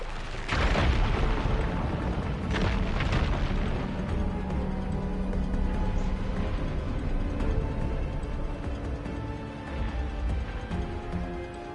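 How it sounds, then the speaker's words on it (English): An ignited fire gleam blasts apart rubble in Horizon Forbidden West, a loud booming explosion followed by a long rumbling roar of debris and crackling that slowly fades. "Igniting that fire gleam should clear it."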